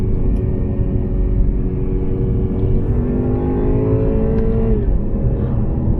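A 2021 BMW 530i xDrive in sport mode with a continuous deep, loud engine drone heard from inside the car; the pitch sweeps and falls as gears drop while cornering.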